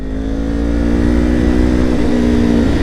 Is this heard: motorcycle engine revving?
yes